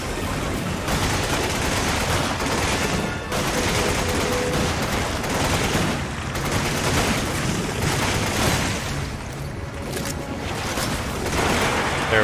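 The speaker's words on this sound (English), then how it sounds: "Take these last couple pot shots on this guy here." Dense, continuous gunfire from Resident Evil 5, rapid loud bursts of shots and impacts packed together with barely a pause, close and sustained across the whole stretch.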